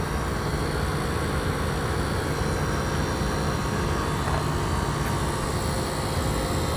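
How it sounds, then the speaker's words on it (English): Steady, even hum and whir from the front compartment of a used electric car while its air conditioning runs, a continuous droning tone that holds at one level throughout, with no voices over it. "That noise is just because the air conditioning is running."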